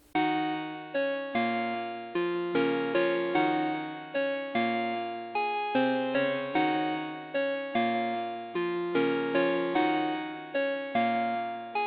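Slowed-down, pitch-lowered music sample loop for a rap beat, with sustained harmonic chords repeating in a steady cyclical pattern and distinct re-attacks every second or so, no voices.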